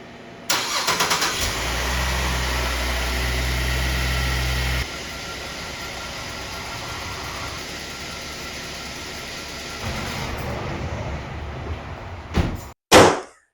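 Used car engine cranking and catching, then settling into a steady idle with a shift to a lower, smoother running tone partway through, ending with a couple of sharp clunks close by; no talk.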